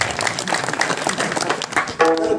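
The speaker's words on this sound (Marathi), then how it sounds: "सर्वांनी एकदा जोरात टाळ्या वाजवून त्याच्यासाठी" Applause from the audience at a kirtan, a dense burst of many hands clapping together for a few seconds, fairly close, ending as a sustained musical tone comes in.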